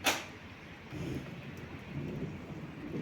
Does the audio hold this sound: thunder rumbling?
yes